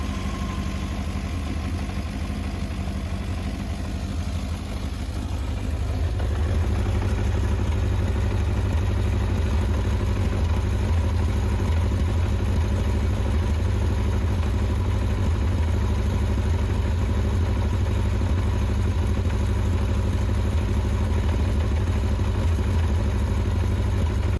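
A 40-year-old Honda CB1100R four-cylinder motorcycle idles close by, a deep, steady rumble that swells a little louder after the first few seconds and holds an even, continuous drone with no talking.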